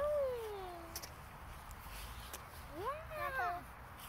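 A kitten meows close by in a home, one drawn-out mew followed by a few more rising cries, with quiet room noise around them.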